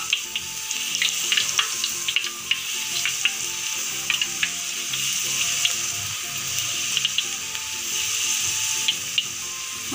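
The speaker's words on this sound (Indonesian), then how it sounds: "Menggoreng ini harus benar-benar telaten ya guys ya, jika tidak telaten tidak jadi." Eggplant chips fry in very hot oil, a dense steady sizzle with small crackling pops, fairly quiet and continuous with no talking.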